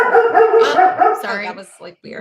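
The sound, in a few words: dog barking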